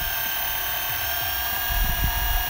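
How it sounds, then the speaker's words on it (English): A high, steady electric whine with a low rumble underneath swells briefly as an electric skateboard's hub motors spin up close by while accelerating. "I love the sound of an electric skateboard taking off."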